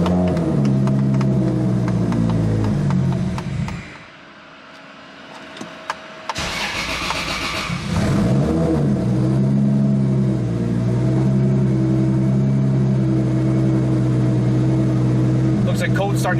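A 1998 Mitsubishi Quicksilver car engine cranks and catches on a cold start, rising briefly before settling into a steady, loud idle close by; a short quieter gap comes in the middle, and no one talks.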